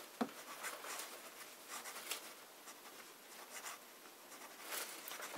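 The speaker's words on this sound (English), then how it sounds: "Right, we start with some fine writing." Fountain pen with a fine nib, a Conway Stewart Kingsand, scratching across paper in a quiet room, with faint continuous scratches and small taps; soft, close and alone.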